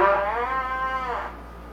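A pinched, thin wind-instrument tone from an over-tightened embouchure with clamped mouth corners, one sustained note held for about a second and a half, close and fairly loud, its pitch sagging slightly before it fades.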